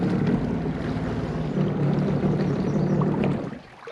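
A 2021 Sea-Doo Spark Trixx watercraft coasting onto its trailer, a loud, close churning rumble of engine and water that holds steady, then drops off sharply near the end.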